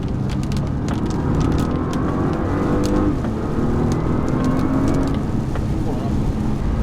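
2009 Nissan GT-R R35 with a twin-turbo engine pulling through a brief acceleration, a muted steady engine drone heard from the cabin with some tire and road rumble, someone speaking French over it.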